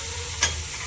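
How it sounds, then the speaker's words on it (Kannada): Ground masala frying in a pan, a brief steady sizzle with one soft scrape of stirring in the middle. "ಆ್ಯಂಡ್ ರುಬ್ಬಿರೋ ಮಸಾಲನ ಇದಕ್ಕೆ ಹಾಕ್ಕೊಂಡು ಸ್ವಲ್ಪ ಉಪ್ಪು ಹಾಕಿದ್ದೀನಿ"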